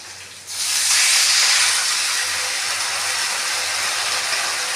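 Chopped onions for a pesarattu upma hit a hot pan and set off a loud, steady frying hiss that swells at once and holds at the same level to the end, with no talk over it.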